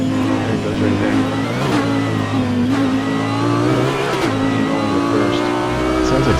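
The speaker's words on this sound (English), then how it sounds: "Sounds like squeaky brakes or a turbo screwing up" A race car engine in the Gran Turismo video game at Bathurst revs and accelerates continuously, with a high thin squeal like squeaky brakes or a faulty turbo running over the steady drone.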